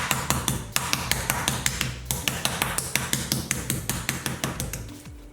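A meat mallet pounds chicken breasts flat on a board for piccata, a rapid, even series of sharp thuds, close and loud, slowing and fading slightly toward the end with no talking.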